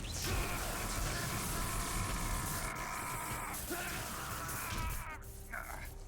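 A game character in Metal Gear Solid 3 yells and groans loudly, with strained cries rising and falling over a dense, noisy background that continues throughout.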